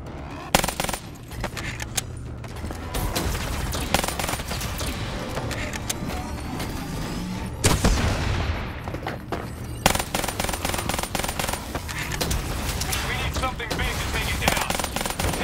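Sustained automatic gunfire and bursts from a Call of Duty: Black Ops 3 combat mission, dense and continuous with a sweeping whoosh midway, mixed with battle effects and occasional voice lines.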